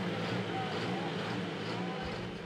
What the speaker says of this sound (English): the final tractor out in the class will be Panic